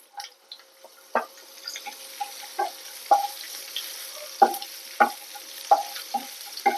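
Mustard seeds, dried chili, curry leaves and garlic sizzling in hot oil for an egg pappadam thoran, with a low steady fry under a series of sharp pops and crackles spaced irregularly, close and fairly loud, no talk.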